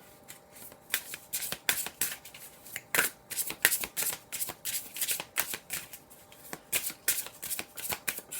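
Tarot cards shuffled by hand at close range, a steady run of quick riffling snaps and soft slaps in a regular rhythm, fairly quiet against a still background with no talking.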